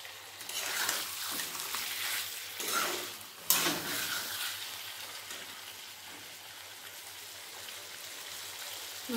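Chicken curry with onions sizzles in a covered pan and is stirred, a steady soft frying hiss with scraping strokes and a sharp clatter of the lid or spoon.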